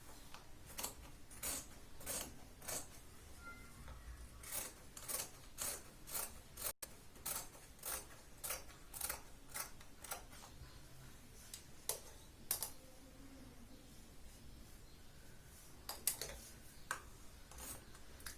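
Scissors snipping through fabric while cutting a Katori blouse sleeve, a long series of quiet, crisp clicks in uneven rhythm, close and faint with no talk.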